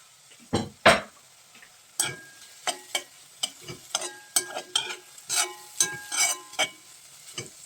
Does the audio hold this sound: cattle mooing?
no